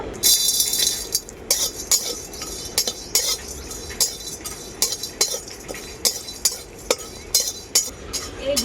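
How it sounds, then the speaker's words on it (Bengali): Whole spices such as nutmeg, coriander, cumin and peppercorns are dry-roasted in an empty karahi, stirred with a utensil that scrapes and clinks against the pan in steady, fairly close strokes. "সব কিছু মশলা একসাথে শুকনো কড়াই আমি ভেজে নেব"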